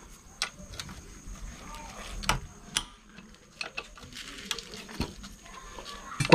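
Scattered metallic ticks and clicks of a wrench working loose four 12 mm bolts on a Honda Dio scooter engine, irregular and close, with faint background sounds between them.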